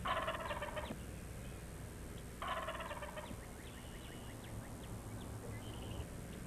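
Wild spring turkey gobblers gobble from a distance, two loud rattling bursts a couple of seconds apart followed by fainter answering gobbles and bird calls over an outdoor background.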